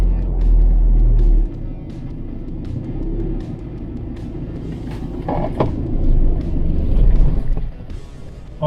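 An Isuzu MU-X 4x4 engine idles along at about 1000 rpm in first gear, a loud low rumbling drone that holds fairly steady with slight swells and some bumps and rattles from the vehicle.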